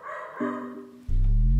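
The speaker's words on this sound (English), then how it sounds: "the dog." A dog named Motown gives a few short barks and growly yips, close and moderately loud, the last one strongest.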